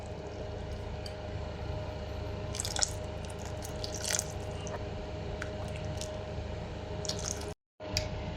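Cornstarch slurry poured into simmering palabok sauce, a steady low bubbling bed with scattered drips and small splashes over several seconds, close and without voices.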